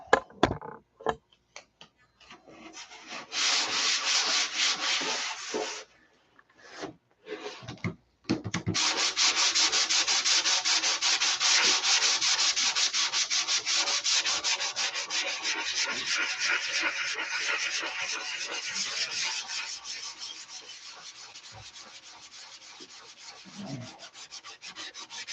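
Wood sanded by hand with abrasive paper, short separate rubs at first, then a long run of steady back-and-forth scratchy strokes, close and fairly loud, tapering off softer near the end with no talk.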